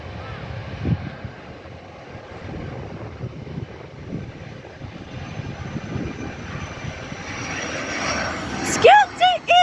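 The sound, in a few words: airplane landing at an airport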